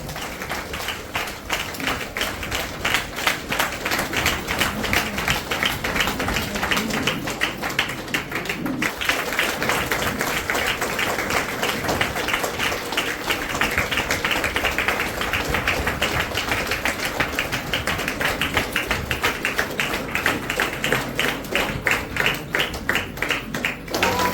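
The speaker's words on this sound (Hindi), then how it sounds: "जोरदार ताली।" An audience at a senior trainers' conference in India applauds at length, a steady and dense clapping that stays loud throughout with no talk over it.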